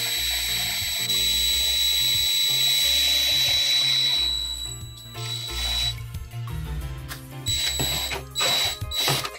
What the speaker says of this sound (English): Nice and easy, number one, drill mode. Just go really slow, okay?